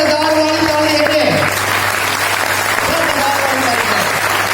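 Loud, continuous clapping from a packed seminar crowd in Jind, dense and near, while a voice speaks over the applause in the first second and a steady low hum runs underneath.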